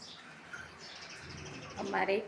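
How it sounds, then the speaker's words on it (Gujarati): Sparrows chirp in quick, bright bursts as they come to drink water, briefly louder near the end, over a busy outdoor background with faint voices. "બીજી પણ ચકલી આવી પાણી પીવા માટે"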